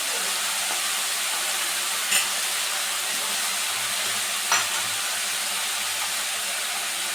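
Spices with turmeric and Kashmiri chilli powder fry for a boal fish curry, giving a dense, even hiss with two brief knocks of a stirring spoon.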